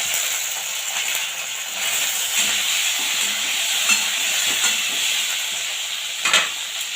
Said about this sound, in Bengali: একদম হালকা করে একটুখানি ভেজে নেব।